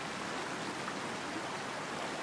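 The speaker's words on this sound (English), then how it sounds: "A lot of people have been complaining about water noise in the game." Steady, loud rush of creek water flowing in the hunting game Way of the Hunter, a dense continuous wash of noise filling the whole stretch with no other sounds over it.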